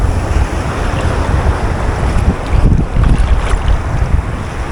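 Sea waves sloshing against a small fishing boat on open water, with steady surging wash and gusting wind buffeting the microphone, loud and close throughout.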